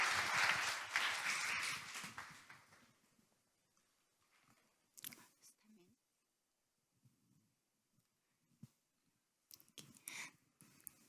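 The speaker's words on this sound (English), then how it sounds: "And a good round of applause." A conference audience gives a loud round of applause in a hall; the clapping swells for about three seconds, then fades into near silence broken by a few scattered claps and small shuffling sounds.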